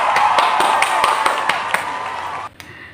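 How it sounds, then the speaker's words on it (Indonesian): A classroom of primary school children clap together in a brisk, even rhythm of about a dozen sharp claps, close and fairly loud, ending abruptly with one stray clap after. "Silakan tepuk tangan kalian semua"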